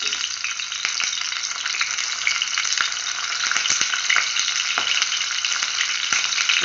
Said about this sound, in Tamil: இப்போ ஆயில் வந்து நல்லா ஹீட் ஆயிடுச்சு. இப்போ நம்ம பண்ணி வச்சிருக்கிற பனானா லீவ்ஸை வந்து பிளேஸ் பண்ணிடலாம்.